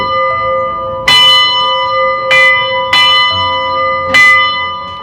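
A church bell at St. Mary's, a Church of England church at the Mont De Lancey homestead, is struck four times in an uneven rhythm, each loud, close clang ringing on over a steady hum.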